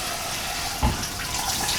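Tap water running steadily and loudly into a sink as a continuous broadband rush, close to the listener, with a brief splash partway through and no voices.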